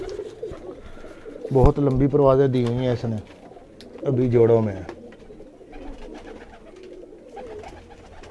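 Salara pigeon on a rooftop loft, cooing in two clear bursts with a wavering, throaty pulse, close by, with someone talking over and between the calls.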